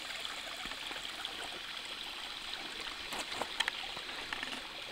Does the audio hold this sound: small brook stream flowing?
yes